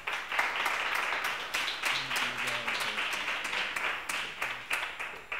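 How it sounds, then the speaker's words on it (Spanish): Audience applause at a World Water Day talk in Gasteiz, a lively burst of many hands clapping with rhythmic surges, close and steady, while a faint voice speaks briefly underneath. "Un fuerte aplauso para ella, por favor."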